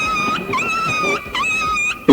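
A dog yelping and whimpering in pain after getting caught in a door, a few high, wavering cries close by in quick succession, with a brief sharp noise at the end.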